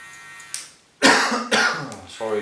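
Two harsh, close coughs in quick succession, loud and raspy, followed by a voice starting to speak.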